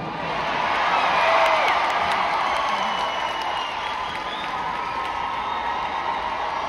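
A large concert crowd at a show cheers and applauds steadily, a broad wash of clapping, whoops and shouting that swells slightly early on and then holds at a sustained roar.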